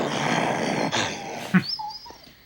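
A dog in the film Fright Night Part II growls low and harshly, then gives a brief louder snarl. A whining tone follows as the sound fades out.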